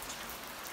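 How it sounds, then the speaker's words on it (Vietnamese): Steady rain falls at a hillside café seating area where chairs are set out for coffee and views, a dense, even hiss of drops on surfaces filling the short moment with no voices. "Hiện tại thì là mưa."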